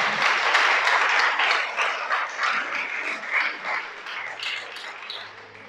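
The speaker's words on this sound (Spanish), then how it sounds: "Dale un aplauso pues al Creador." Congregation applause at a Shabbat service, a dense broadband clatter of many hands that is loudest at the start and slowly thins and fades over about six seconds.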